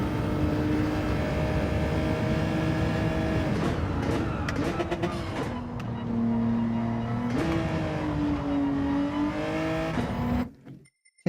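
BMW M4 in Gran Turismo 7 running down a straight, a steady engine drone with rising pitch through gear changes and a brief shift dip, cutting off abruptly near the end.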